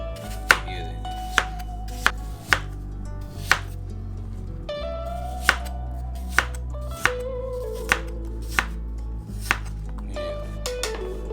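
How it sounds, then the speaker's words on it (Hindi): A knife chops fruit into pieces for a fruit cocktail on a board, giving sharp, evenly spaced thuds about once a second over a low background hum. "अब ये देखें, इसके ऐसे टुकड़े कर लेते हैं।"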